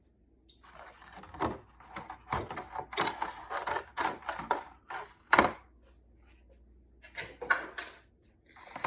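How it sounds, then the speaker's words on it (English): Scissors or a blade cut through the top of a washed plastic container with repeated crisp snips and crunches, irregular and close up, with short pauses between cuts. "You're going to cut the top off"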